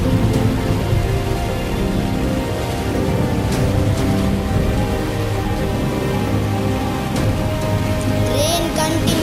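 Rain effect played during a primary school annual day stage play, a steady broadband wash of patter running the whole time at moderate level, with a faint voice and a brief rising tone near the end.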